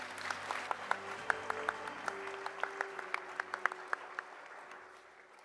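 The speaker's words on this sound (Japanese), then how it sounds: "改めて盛大な拍手をお送りください" Applause from the audience at an advertising copywriting award ceremony in a Tokyo hall, moderate and fairly distant, with individual sharp claps popping out of the steady wash before it slowly dies down.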